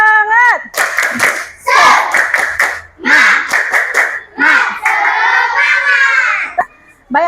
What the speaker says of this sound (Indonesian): coba tepuk semangatnya dulu.